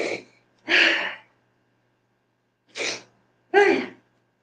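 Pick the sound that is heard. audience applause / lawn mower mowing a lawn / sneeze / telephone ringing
sneeze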